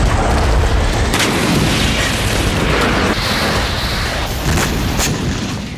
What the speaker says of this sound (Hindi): क्रीमिया की धरती एक के बाद एक कई धमाकों से दहल उठी